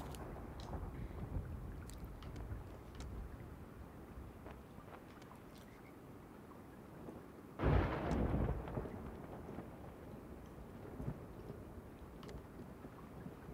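Soft, steady rain hisses in the background of the video game Sea of Thieves, broken midway by a short, heavy rumble of thunder.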